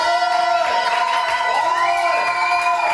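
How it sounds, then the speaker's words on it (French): A television studio audience cheers and whoops loudly, with shouting voices and a sustained crowd roar laid over music with steady tones, continuous throughout. "je vous demande d'applaudir très très fort"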